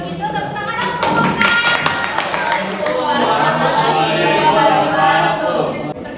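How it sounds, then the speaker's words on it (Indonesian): A classroom group of students applauding after a presentation, dense clapping and tapping rising into a steady burst that fills the room, mixed with murmured chatter. "baik kalau begitu tepuk tangan dong"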